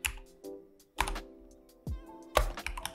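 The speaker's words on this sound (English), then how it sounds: "So just open my terminal again and then type in am dump" Keystrokes on a computer keyboard as a command is typed into a Linux terminal for an openHAB backup, a close series of clicky taps in uneven bursts with a short pause partway through, no talking.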